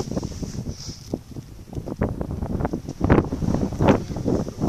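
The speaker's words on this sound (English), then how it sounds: "Wind. It's a very quiet environment." Wind gusts and rustles across a microphone in a quiet open outdoor setting near Churchill, Manitoba, a soft broadband buffeting that rises and falls with no voices.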